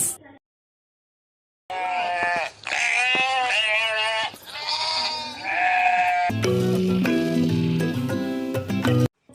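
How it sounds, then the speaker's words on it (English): A sheep gives a series of close, loud, wavering bleats after a short silence, followed by a stretch of music. "I am a sheep"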